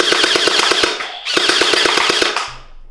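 A toy gel ball blaster fitted with a large fake suppressor fires two rapid motorized bursts of closely spaced snapping shots, loud and near, with a brief pause between bursts.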